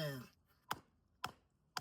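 A Shade Indonesia Trench SOK tool chops a hard, dry dead log, giving three quick, sharp strikes in an even rhythm right after a brief voice at the start.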